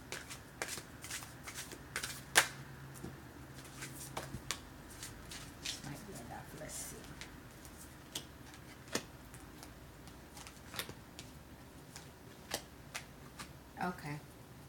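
Tarot or oracle cards being shuffled by hand, soft rapid riffles and ticking flicks close up, quiet and intermittent, with a voice talking lowly over them.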